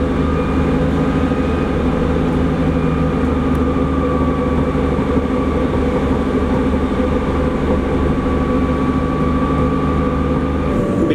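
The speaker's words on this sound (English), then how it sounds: "Let's go on the train." Steady rumble and rhythmic clatter of a passenger train riding along the tracks in Wales, continuous and fairly loud from inside the carriage with no talk.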